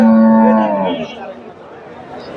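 A single desi-breed dairy cow moos loudly up close at a cattle market in Bogura, Bangladesh, the long low call fading out into a murmur of distant crowd chatter.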